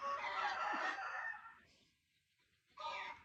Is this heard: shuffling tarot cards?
no